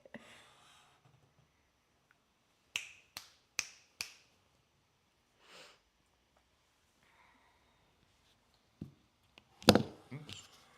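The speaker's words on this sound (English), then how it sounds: "I prefer the snap." Sharp, crisp finger snaps ring out in a quiet room, a quick run of four close together, then scattered single snaps and a final cluster near the end, with brief soft voices between them.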